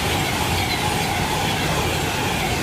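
A train passes straight through platform 1 at Cheddington station without stopping, a steady, loud rush of wheels and rail noise filling the whole stretch with no break.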